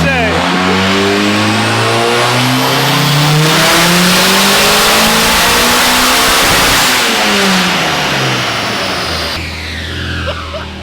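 A BMW E36 with a swapped turbocharged VW 1.8T engine revs hard under boost, loud and sustained with rising and falling engine pitch across the whole stretch, voices faintly mixed in.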